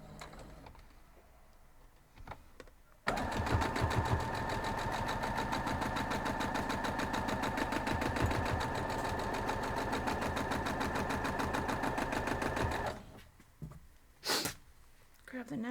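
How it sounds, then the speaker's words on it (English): A sewing machine stitches quilt block pieces for a Paradox quilt block in one long steady run of rapid, even stitching that starts abruptly and stops, close and clear, with quiet handling sounds before and after. "We're just going to sew down through."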